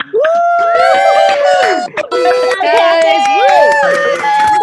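Graduating fellows cheered by an online audience on unmuted microphones, several overlapping voices shouting and whooping loudly and close for several seconds with hardly a pause.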